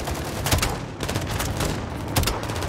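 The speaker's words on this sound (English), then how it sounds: "Gaz, hit with the launcher!" Heavy gunfire fills a Modern Warfare II firefight, with bursts of shots and a strong blast around the middle as a launcher round is fired, the booms loud and close over continuous battle noise.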